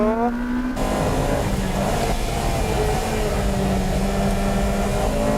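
Honda Integra Type R DC2 and DC5 and a Civic EK9 race on the Ebisu circuit in 2001, a loud continuous engine drone rising and falling in pitch as the cars accelerate, with no break.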